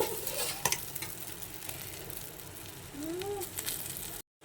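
White rice and prawns being stir-fried in a hot pan, with steady crackling sizzle and scraping spatula strokes throughout, close and fairly loud, with a brief squeak of utensil against metal near the end before a sudden cutoff.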